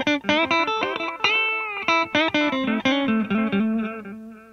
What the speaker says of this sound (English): and then we can go into a very long delay.